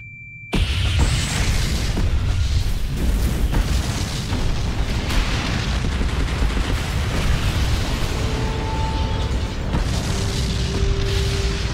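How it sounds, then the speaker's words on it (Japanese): Loud, sustained explosion effect from the anime Mobile Suit Gundam UC, a heavy boom that erupts suddenly and rumbles continuously for about eleven seconds with no speech. "シャフト部に爆発の光を観測。"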